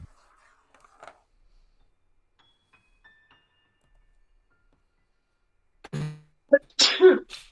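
A sudden sneeze bursts out near the end after mostly quiet moments, sharp and close, followed by a brief vocal tail.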